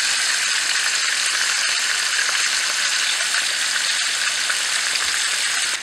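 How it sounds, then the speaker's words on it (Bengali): Koi fish fries in hot oil with a loud, steady sizzle that crackles evenly throughout, with no voices. "মাছটা ভালোভাবে একটি দু পিটি ভাজা করতে হবে।"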